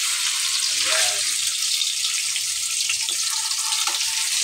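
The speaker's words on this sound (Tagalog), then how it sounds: "Prito lang natin." Tofu frying in a pan of oil for adobo, a steady loud sizzle and crackle that runs continuously without breaks, close up.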